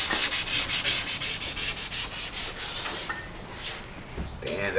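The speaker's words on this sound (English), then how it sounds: "Now we're wet sanding and we're getting ready for the finale." Wet sanding of a primed Mazda Miata car body, a steady loud rhythmic scrubbing with regular back-and-forth strokes that fades to lighter rubbing near the end.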